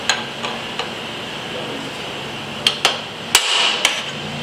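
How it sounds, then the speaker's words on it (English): Several sharp hammer strikes on a transfer punch set against a motorcycle frame plate in a workshop, building a Panhead custom: a few light taps, then louder ringing blows, distinct and close. "Transfer punch a hole"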